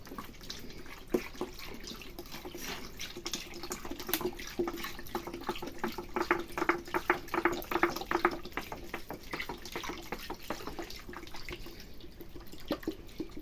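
Liquid is poured over fish to marinate it, giving a faint, steady trickle with some splashing that runs on without a break.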